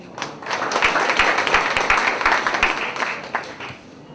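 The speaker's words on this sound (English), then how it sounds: "A very big round of applause for her once again, please" Dense, steady applause from an audience at a university orientation ceremony after a speech, swelling quickly and holding for several seconds of many hands clapping before tapering off.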